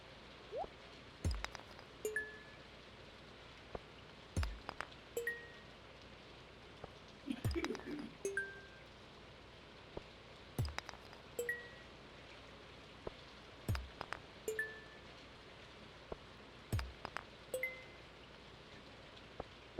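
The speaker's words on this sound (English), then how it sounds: "The rain is not helping my sleepiness." Steady soft rain falling in the farming game Stardew Valley, a constant patter carrying on for the whole stretch alongside periodic game blips and chimes, with no voices.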